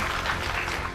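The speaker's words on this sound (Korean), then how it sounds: "박수 한번 나와야 되는 거 아니에요?" Applause at a press conference, heard as a brief, steady wash of many hands clapping at moderate distance, lasting about a second with no voices over it.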